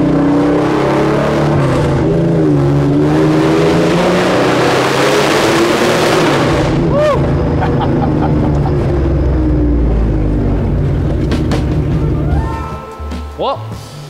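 Ferocious exhaust note from a 1976 Porsche 911S outlaw running without a silencer, the engine revving and surging loudly nearby before easing off and fading toward the end.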